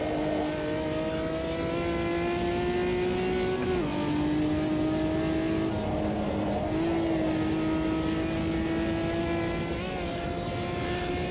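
A race car engine in the sim racing game Automobilista 2 drones loud and steady, its pitch climbing, dipping at gear changes, then rising again, with no talk over it.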